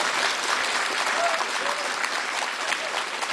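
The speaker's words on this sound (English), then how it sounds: "first a big applause" Loud, dense applause from an audience at a celebration party, a continuous close wash of clapping that holds steady for a few seconds.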